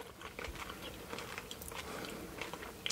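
Someone chews sweet backy sweets up close, soft repeated crunching and mouth sounds at a quiet level, with no talking.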